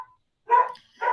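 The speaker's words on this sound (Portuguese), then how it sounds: "Gente, esse cachorro, sabe?" Dog barks twice during an online video call, two short sharp yaps separated by a pause, moderately loud and close to the microphone, with no talk over them.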